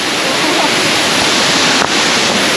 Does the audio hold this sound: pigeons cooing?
no